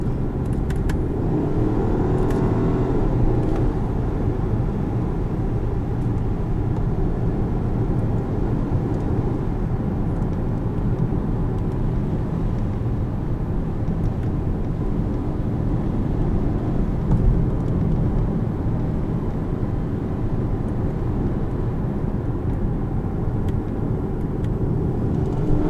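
A 2017 Volkswagen Passat R-Line's 1.8-liter turbo four-cylinder hums on the move, joined by steady road and cabin noise at an even, moderate level, with no one speaking.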